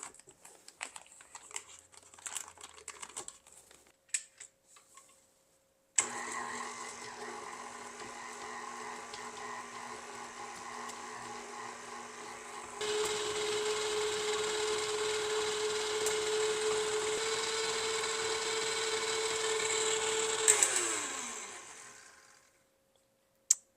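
A stand mixer creaming butter for sugar cookie dough, a steady motor whir that starts abruptly, rises to a louder, higher-pitched drone partway through, then winds down near the end, close and alone with no voices.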